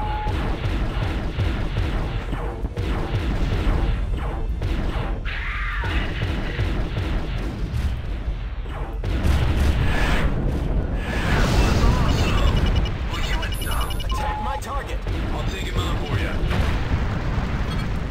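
Weapons fire and explosions from the space combat game Wing Commander Saga, a dense, loud barrage of booms and blasts running throughout, with bursts growing heavier partway through.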